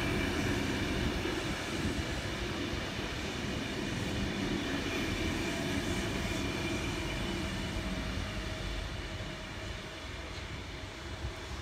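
A train rumbles steadily through the whole stretch at Padstow station, a dense, broad roar of wheels and motors from two trains approaching at once, staying loud and close without any voices.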